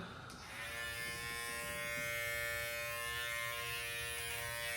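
A Babyliss Tomb45 hair clipper hums with a steady, close electric buzz that starts quietly and then holds at a constant level, with no voices over it.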